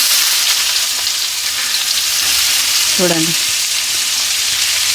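Chopped onions frying in a hot pan for egg pepper fry, a steady loud sizzle throughout with a brief spoken word partway through.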